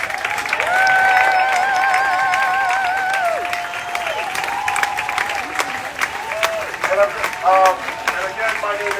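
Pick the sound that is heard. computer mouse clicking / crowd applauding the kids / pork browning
crowd applauding the kids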